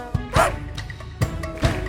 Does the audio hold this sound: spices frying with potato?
no